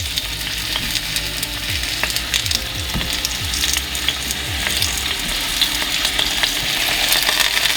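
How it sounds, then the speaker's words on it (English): Potatoes hit hot oil in a cast iron pan, giving loud, steady sizzling and frying with a few scrapes and clinks, close and continuous. "Now I'm going to add the potato to get a nice sear on here."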